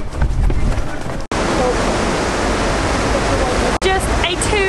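Atlantic Ocean surf breaking at the shore in Casablanca, Morocco: a loud, steady, close wash of waves with a brief dip partway through, and a voice briefly heard near the end.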